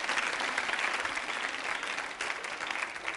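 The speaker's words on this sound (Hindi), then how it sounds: "तालियां बजाइए इनके लिए।" An audience claps at a Rajasthani culture quiz show held at a women's college, a full steady burst of many hands clapping together, close and fairly loud with no speech over it.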